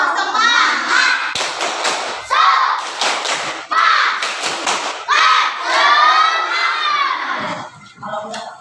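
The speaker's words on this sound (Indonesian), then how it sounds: "coba kita sama-sama tepuk semangat dulu. Tepuk semangat." Schoolchildren in a classroom performing the tepuk semangat chant, loud bursts of rhythmic clapping alternating with shouted voices in call-and-response phrases, several energetic bursts separated by brief gaps.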